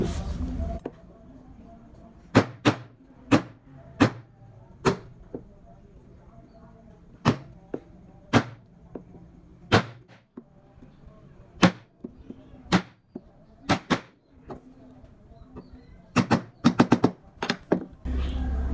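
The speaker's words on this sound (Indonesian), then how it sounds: "di bagian ini kita cekungkan ke dalam menggunakan pahat kol." A chisel being struck to carve a traditional wooden ornament, with about twenty sharp, distinct taps at irregular intervals, some spaced apart and a quick cluster near the end, close and crisp over a quiet background.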